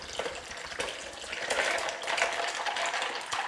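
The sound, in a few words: pouring water from a pitcher into another pitcher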